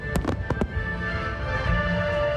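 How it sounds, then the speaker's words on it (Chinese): National Day fireworks over Chiayi burst four times in quick succession at the start, sharp cracks rising from a steady background murmur that carries on afterward. "天顶有真侪无共色水的烟火，甲暗暝变甲更加美丽。"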